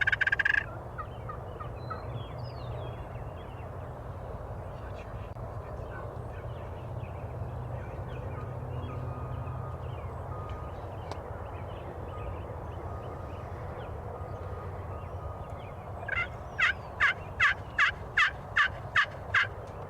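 Wild turkeys gobble during a Wisconsin spring turkey hunt, a run of about eight sharp, evenly spaced gobbles bursting out near the end over a steady outdoor rumble, fairly close and loud.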